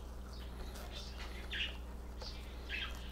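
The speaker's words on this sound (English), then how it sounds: "We've got the budgie chirping away in the background." A pet budgie chirps faintly in the background of a quiet indoor room, a few short high tweets scattered over a steady low hum.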